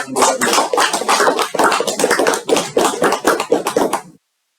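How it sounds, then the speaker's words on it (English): A small group claps for three speakers at a club meeting, the sharp, uneven hand claps close by and lasting about four seconds before stopping abruptly. "Round of applause to all the 3 speakers."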